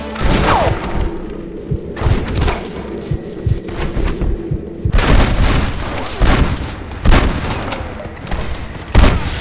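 A Red Dead Redemption shootout with heavy booming gunshots and thudding impacts in irregular bursts, loud and close over low background noise.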